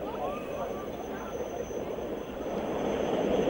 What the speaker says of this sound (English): it's because of the din of that helicopter that has come in once again